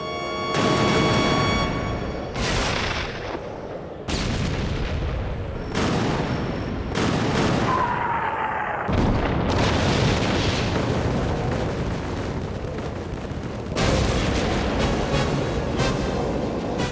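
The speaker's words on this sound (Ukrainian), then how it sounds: "Головна батарея готова до пострілу. Гарматам вогонь!" A cruiser's main battery fires a triple salvo in an anime space battle, a series of heavy booming gun blasts, loud and close, spaced across the stretch with rumbling and a brief whistling tone between shots.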